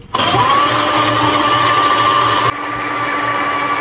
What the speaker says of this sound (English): Next, blend them until smooth.